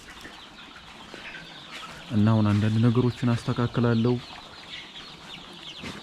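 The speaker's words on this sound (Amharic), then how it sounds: "እነዚህኞቹ ዶሮች ደግሞ ያው ቀደም እንደነገርኳችሁ እንትኖቹ ናቸው፣ የተነከሱት ዶሮች ናቸው።" Chickens in a coop that were recently vaccinated, some of them bitten, give a burst of loud, close, rhythmic clucks in the middle of the clip, while a person speaks quietly around them.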